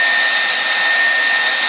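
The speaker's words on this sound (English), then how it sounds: "He's curing fiberglass with his wife's blow dryer." A household blow dryer blows continuously to cure fiberglass on a boat-building project, a loud, steady, close whirring hiss with no talking.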